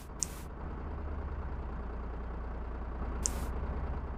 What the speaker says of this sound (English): There's a truck somewhere doing a noise.